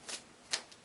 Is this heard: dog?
no